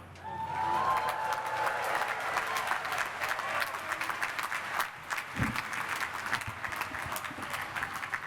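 Sustained audience applause at the 2022 MIT undergraduate ceremony, welcoming MIT President Rafael Reif; dense steady clapping from a large crowd, fairly loud, briefly dipping before continuing.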